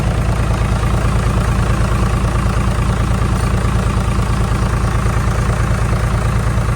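Daihatsu Rocky engine idling, a loud, steady low rumble with a regular pulsing throb from start to finish.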